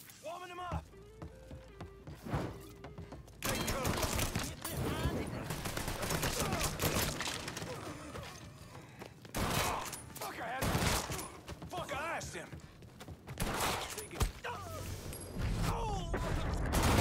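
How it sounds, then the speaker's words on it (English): Heavy shotgun blasts and rapid gunfire ring out in a firefight in the video game Mafia III, loud and dense across the whole stretch with bursts in quick succession, while someone talks over the shooting. "This shotgun is sick."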